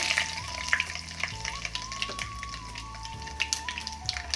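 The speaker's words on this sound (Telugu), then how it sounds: "ఏగుతున్నాయి కదా అలాగే తాలింపు గింజలు కూడా వేసుకున్నాం" Cardamom, cinnamon, cloves and tempering seeds frying in hot oil for an Andhra-style prawn gongura curry, a constant crackling sizzle broken by repeated scraping stirs of a spoon in the pan.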